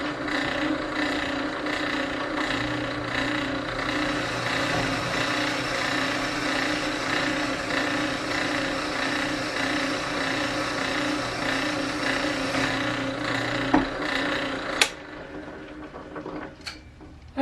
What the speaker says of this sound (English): We're going to drill our second hole again, and we're going to get a little bit better view of the drill doing what it does.